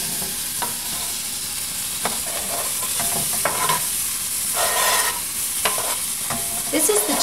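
Onions sizzle steadily in hot olive oil in a soup pot, a dense close frying hiss broken by scraping, clattering stirs of a spoon, with no talking.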